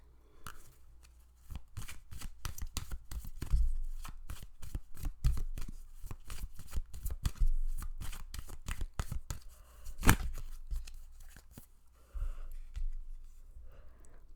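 Tarot cards being shuffled by hand, a close, continuous run of quick riffling and flicking card sounds with brief pauses and no talking.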